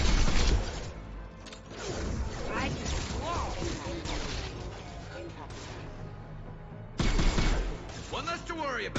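Gunfire bursts from a firefight in Mass Effect 2 on Illium, sharp repeated shots and impacts cracking over a busy battle soundscape with voices mixed in.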